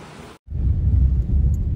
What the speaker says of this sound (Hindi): कोहिमा में तो बारिश भी गिर रहा है अभी